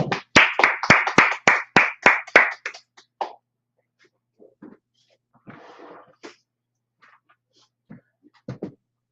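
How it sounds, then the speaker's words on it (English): About ten sharp, evenly spaced claps from a small group at a Wednesday night scripture and law class, loud and close in a quick rhythm, then stopping into sparse coughs, throat clearing and soft scattered noises. "Clap it up."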